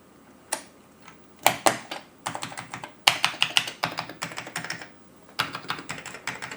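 Typing on an Amiga keyboard fitted with brand new keycaps: irregular bursts of crisp key clicks, close and fairly loud, with short pauses between flurries and no voices.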